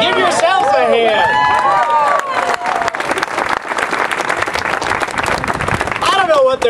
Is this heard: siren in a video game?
no